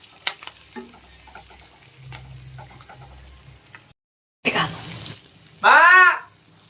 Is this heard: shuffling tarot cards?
no